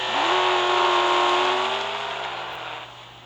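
Engine of a McLaren 720S GT3 race car in the video game Real Racing 3: a loud, close rev that climbs in pitch, holds, then eases off and fades.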